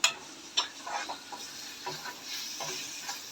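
Masala powder and whole spices being stirred into a frying prawn curry, a soft scraping stir with light sizzling underneath, quiet and close with a few brief clinks.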